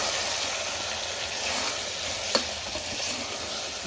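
Chilli powder and spices stirred in a hot frying pan for pulao, a continuous loud sizzle with soft scraping and one sharp clink partway through.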